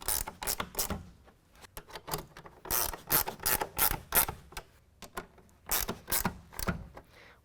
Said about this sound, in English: We use a 1/2 inch wrench or ratchet to do that.